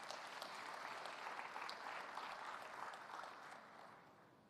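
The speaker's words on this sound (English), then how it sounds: "Let's give her a round of applause as she comes up" Audience applause at an award ceremony for food and environment work in Africa, a steady wash of clapping from a crowd heard fairly distantly, fading slightly toward the end.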